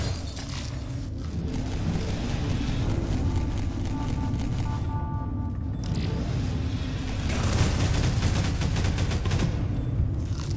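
Sustained gunfire fills a video game raid, with rapid automatic bursts and heavy booms running steadily throughout and swelling louder toward the end.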